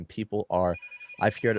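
A telephone rings with a steady electronic tone in a pause between bursts of nearby conversation, while people talk before and after it.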